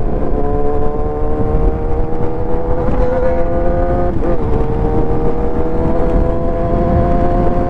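A motorcycle engine revs loudly and steadily up close, its pitch rising and dipping briefly as the clutch is pulled and it shifts gears, with a windy rumble underneath.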